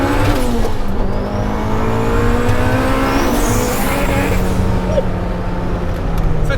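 A turbocharged, fully forged B18C2-powered Honda Civic Si EM1 running about 8.8 psi of boost pulls hard through second gear, its engine note rising loud and close with steady harmonic climb and no speech.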